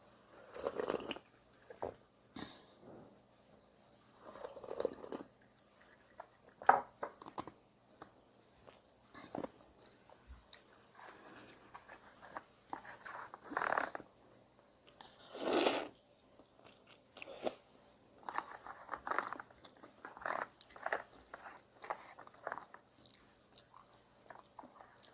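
Crunchy chewing and biting on udon with kirimochi rice cake, in close-up, with bursts of crisp crunches and softer mouth sounds coming in irregular clusters and quiet gaps between, and no talking.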